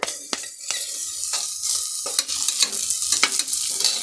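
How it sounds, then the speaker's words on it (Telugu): Curry leaves hit hot oil after chopped onions for horsegram biryani, giving a crackling sizzle with sharp bursts of spitting and stirring scrapes, close and fairly quiet, with no voices. "ఇప్పుడు కరివేపాకు వేసుకుంటా."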